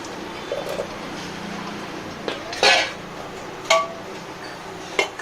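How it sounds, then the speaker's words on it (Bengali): Raw jackfruit going into a pressure cooker for steaming, heard as several metallic clanks and knocks of pot and utensils, close and sporadic, with no talk. "তার জন্য প্রেসারে ইঁচড় দিয়ে দিচ্ছি।"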